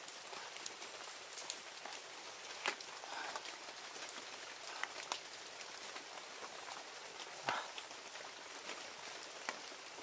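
Steady rain patters across the surface with scattered heavier drops, a continuous wash of noise with no voices.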